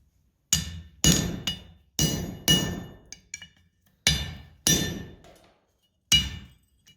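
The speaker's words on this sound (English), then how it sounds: "and hammer through the other side." A steel punch is hammered through a piece of steel at a blacksmith hammer-in, about nine sharp, ringing metallic blows in uneven pairs, each ending in a brief decaying ring, loud and close with no talking.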